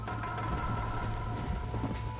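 Quick, rhythmic hoofbeats of a galloping horse in the video game Red Dead, over a steady low rumble and faint tonal hum.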